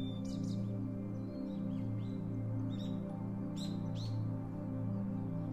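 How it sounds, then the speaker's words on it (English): Small birds chirp and tweet in a quiet forest, scattered bright calls over a steady low hum, fairly faint and without voices. "the chirping of birds"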